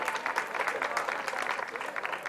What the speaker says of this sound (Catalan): Un fort aplaudiment per ells, perquè venen expressament per cantar per vosaltres